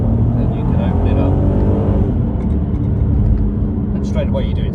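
An Audi TT with a 250-horsepower V6 accelerates along a road, its engine a loud, full, rising growl heard from inside the car, with a voice speaking over it.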